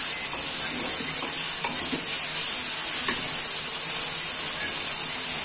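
Vegetables frying with fresh prawns and garlic paste in a pan, giving a steady loud sizzle and hiss throughout, with occasional soft scrapes of stirring and no talking.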